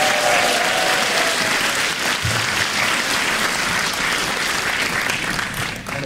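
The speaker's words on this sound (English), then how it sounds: "so a round of applause for Tam" Sustained, dense applause fills a hall at a school winter concert, a steady roar of many clapping hands at even loudness that tapers slightly at the very end.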